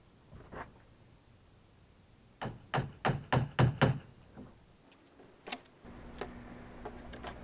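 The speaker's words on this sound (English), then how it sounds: "I love the rapid fire of the hammers." Framing hammers knocking apart a wooden laser-shipping crate, a quick burst of about six sharp blows in a row with a few isolated knocks before and after, at moderate distance, no talking.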